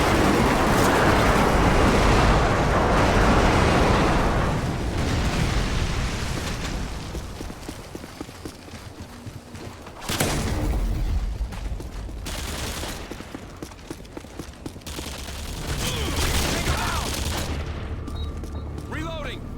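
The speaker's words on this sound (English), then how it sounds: "Friendly airstrike inbound." Airstrike explosions in the video game Modern Warfare 2 multiplayer, heavy booms and rumbling blasts mixed with bursts of gunfire, loud and repeated over the whole stretch with brief quieter gaps between strikes.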